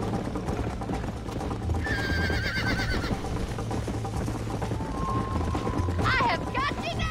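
Horse hooves clip-clop at a steady gallop in the video game Red Dead Redemption, with two sharp whinnies over a busy mix of game sound.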